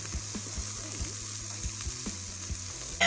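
Steaks sizzle in a pan over a camp stove while dinner cooks outdoors, a steady bright crackle with small clinks and stirring sounds, close and moderately loud, no talking.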